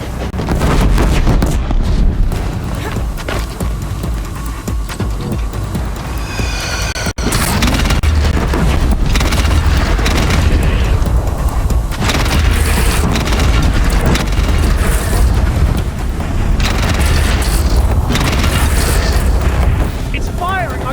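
Enemy gunfire and explosions in the action game Horizon Zero Dawn, with booming blasts and bursts of shots running loud and dense throughout, alongside game music and effects.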